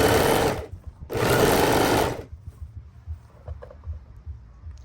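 A sewing machine runs in two bursts, stitching the edge of pajama pants: a loud, close, rapid mechanical whir for about a second, a short pause, then another second-long run, followed by faint handling clicks and rustle.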